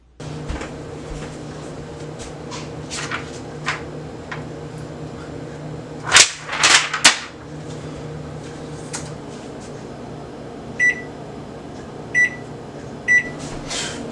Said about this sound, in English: I wouldn't even let those people touch a microwave.